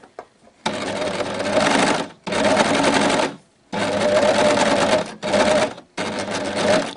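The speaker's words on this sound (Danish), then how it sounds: "Her gør jeg det på en overlocker" Overlocker stitching a leggings seam, a loud, close, rapid mechanical whirr running in five bursts of one to one and a half seconds each, separated by short silent pauses, with no speech.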